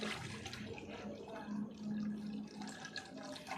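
Water pours steadily into a container as the first step of a ripe bael fruit sharbat, a continuous splashing trickle heard close up without speech.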